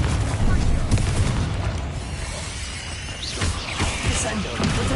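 A Confringo blasting spell erupts in Hogwarts Legacy, a booming blast with crashing debris over a loud, dense game soundscape while someone shouts spell names throughout.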